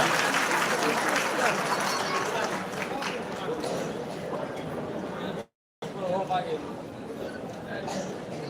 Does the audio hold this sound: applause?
yes